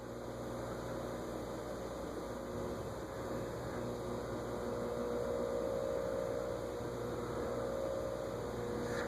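GE 20-inch plastic-blade box fan with its motor spinning slowly and drawing heavy current, a steady electrical hum with tonal whine, constant and close, with no voices.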